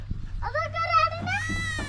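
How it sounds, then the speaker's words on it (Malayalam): Goats on a livestock farm in Al-Ahsa give a close, wavering bleat lasting about a second, rising and falling in pitch, with a shorter cry starting just after it. "ഇവിടെയൊക്കെ ഈ ആടുകൾ തന്നെയാണ് കേട്ടോ ഓരോരോ രാജ്യത്തിന്റെ ആടുകളാണ് ഇതൊരു ഫാമാണ്"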